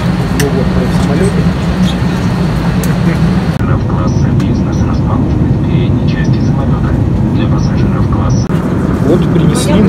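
Steady loud roar of an airplane engine, continuous throughout, with a broadband rumble and a slight shift in tone partway through.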